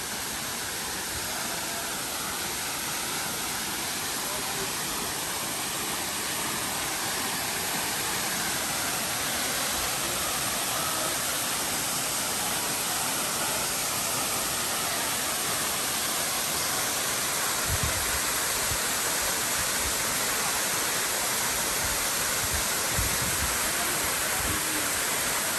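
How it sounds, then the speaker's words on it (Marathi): Saleli waterfall in Sattari pouring off a high rock face, a steady, loud, continuous broadband roar of rushing water that holds unchanged throughout with no talking. "सालेलीचो हो धबधबो आमी पळयता"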